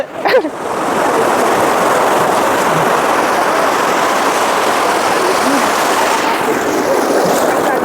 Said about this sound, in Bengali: আর আসছে দেখেছো ঢেউগুলো